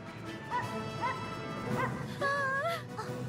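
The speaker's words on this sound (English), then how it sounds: "From within the stampede, Applejack and a dog run alongside the cows." A cartoon dog yips and barks in short bursts while running amid a cattle stampede at a rodeo, several quick calls over a busy background rumble of hooves and commotion.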